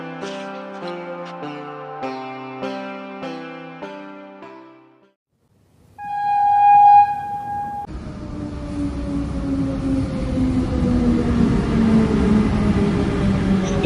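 Train pulling into a station as a story sound effect: a steady rumbling roar with slowly falling tonal whines like braking, following a stretch of soft music and a brief chime.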